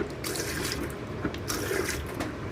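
Water from a pump runs steadily into a small campervan sink, a continuous splashing trickle close by with no talking.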